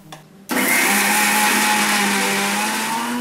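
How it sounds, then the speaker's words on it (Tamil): A mixer grinder kicks on after a brief quiet moment and whirs loudly and steadily, grinding roasted cumin, pepper, dried chillies and coriander into powder. "இதை இப்போ ஸ்டவ் ஆஃப் பண்ணிட்டு இதை பொடியா நம்ம மிக்சியில அடிச்சுக்கலாம்."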